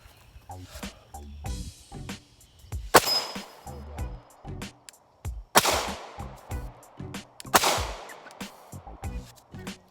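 Canik TP9 Elite SC pistol fired at an outdoor range, three loud, sharp shots with echoing tails spread over several seconds, surrounded by quieter handling clicks and bumps nearby.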